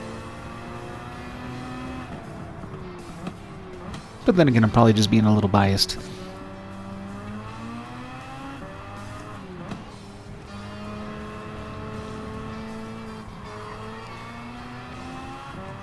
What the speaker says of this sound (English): And the rotaries do sound amazing.